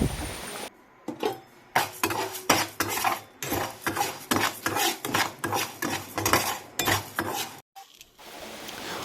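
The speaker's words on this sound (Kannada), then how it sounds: "ಬೊಕ್ಕ ಉರ್ಪೆಲರಿ ಪೊತ್ತೊಡು ಅವು ಬೊಲ್ದು ಕಲರ್ ಆನ ಮುಟ್ಟ ಪೊತ್ಪೊಡು" Urad dal roasting in a pan is stirred with a utensil in steady, regular strokes, a dozen or more close, bright scrapes against the metal, each followed by a brief pause, with no voices.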